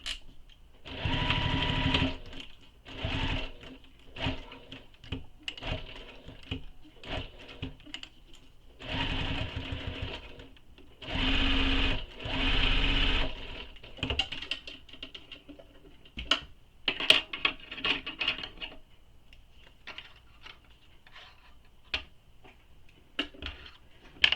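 A sewing machine stitches down the angled edge of a waist pack in several bursts of close, rapid whirring. Quieter handling and rustling of the fabric fill the gaps between them, and no one speaks.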